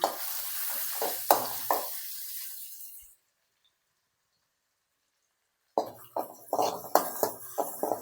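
Crushed ginger and garlic fry in a clay pot with a steady sizzle and scraping stirs, which break off into a few seconds of silence before the frying and stirring pick up again.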